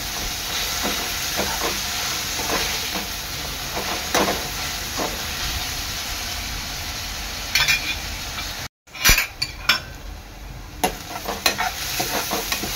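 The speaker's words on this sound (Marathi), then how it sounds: "कांदा टोमॅटो चांगले एकजीव करून शिजवून घ्यायचे आहे" Chopped onion and tomato are stirred and cooked in a pan for a mushroom chana dal. Close spatula scrapes sound over a constant sizzle, with a brief dropout and then sharper stirring clatter.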